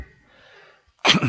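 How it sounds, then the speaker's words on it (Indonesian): A single sharp, loud human sneeze bursts out after a quiet, breathy pause, close to the microphone, during a religious study gathering. "bersin jebret"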